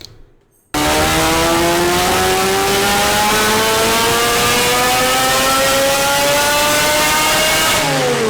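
A modified Toyota Supra's engine barks to life after a brief quiet moment, then holds a loud, sustained high-pitched rev whose tone climbs smoothly and steadily, raw and racecar-like, close up.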